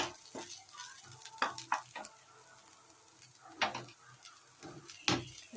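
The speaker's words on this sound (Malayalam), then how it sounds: "ഇനി നമുക്ക് നല്ലപോലെ വറുത്തെടുക്കാം" Coconut and small onions roasting in a pan for a Kerala prawn curry, a steady close sizzle broken by several sharp stirring scrapes and clatters of the spatula, with no voices.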